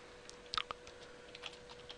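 A computer keyboard is typed on in a short, uneven burst of light clicks, soft and close, with a faint steady hum beneath and no voices.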